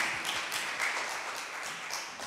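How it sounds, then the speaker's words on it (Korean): A church congregation applauds in worship at an air force base chapel service. The clapping is soft and diffuse and carries on steadily for a couple of seconds, with no distinct single claps and no speech over it. "우리 하나님께 영광의 박수 올려드리겠습니다"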